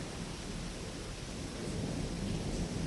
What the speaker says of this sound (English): as one listens to the sound of the thunder and the drops of rain